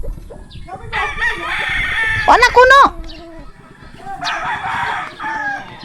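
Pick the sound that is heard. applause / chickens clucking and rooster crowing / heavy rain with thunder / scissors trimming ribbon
chickens clucking and rooster crowing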